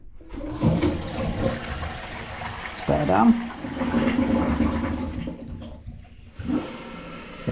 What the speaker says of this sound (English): Let's get a full flush out of it and try again.